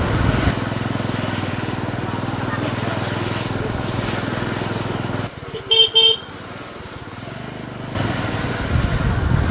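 A motorcycle engine drones steadily on a village road in Barisal, Bangladesh, drops away briefly while a horn beeps a few short toots, then the engine picks up again.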